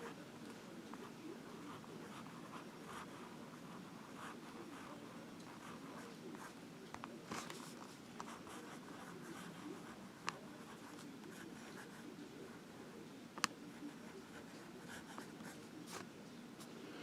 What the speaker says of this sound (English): This nib can write.